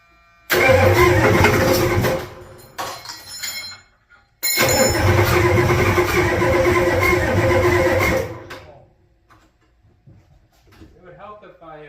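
Ford 7.3 IDI diesel engine being cranked on a test start after an engine swap, a loud, steady mechanical churning in two long bursts separated by a brief pause, then cutting off into quiet.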